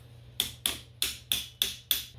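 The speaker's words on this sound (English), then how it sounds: "And for that, we'll use a hammer." Hammer tapping welding wire through the hub of a 33 lb spool being fitted onto an 11 lb welder, six sharp, evenly spaced metallic strikes with a bright ringing edge over a low steady hum.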